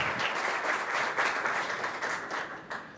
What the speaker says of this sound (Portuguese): uma salva de palmas para o João Silvério